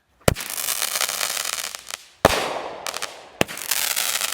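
A 25-shot firework cake fires from close by, with three sharp launch bangs spaced about a second apart, each followed by a long crackling, hissing burst that fades before the next.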